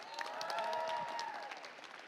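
Applause rises from the audience at a Weslaco High School college signing, a short burst of clapping heard fairly faintly, with a sustained tonal sound running across it.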